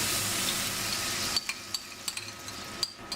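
Chilli bean paste hitting hot oil for Beijing bean paste noodles gives a steady bright sizzle, then a series of sharp clinks and scrapes as a utensil stirs the pan.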